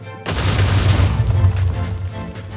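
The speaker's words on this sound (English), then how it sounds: "to fire our main cannon array, you can hit the port cannons or starboard cannons button." A heavy, booming barrage of rapid main cannon fire from a cruiser-class starship in a video game, loud and continuous with crackling blasts over a low rumbling roar.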